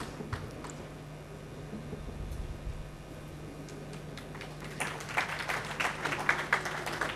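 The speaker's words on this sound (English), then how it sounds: "A big round of applause." At a conference session, audience applause starts faint and scattered over a low hum, then swells into fuller, denser clapping over the last couple of seconds.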